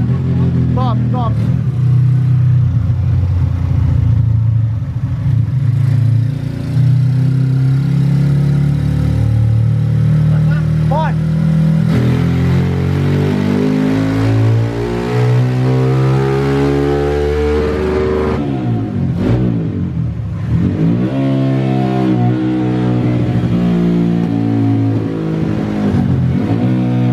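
Small motorcycle fitted with a 190 engine kit revving hard in a backyard workshop, loud and close, pitch sweeping up and down through repeated throttle blips, with a voice talking over it at times.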